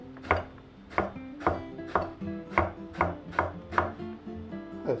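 A knife chops through eggplant on a board in steady, evenly spaced strokes, about nine crisp thuds, close and alone.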